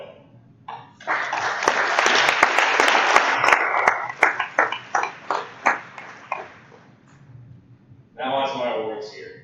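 Audience at a school sports banquet clapping loudly for a few seconds, then thinning into scattered individual claps, with a voice speaking at the start and again at the end.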